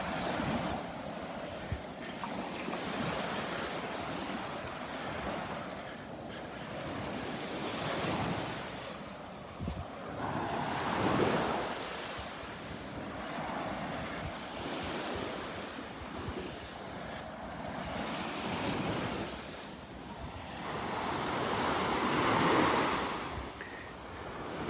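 Surf rolling onto the sand at Delnor-Wiggins beach, with a steady wash of waves swelling and fading every few seconds under continuous wind buffeting the microphone.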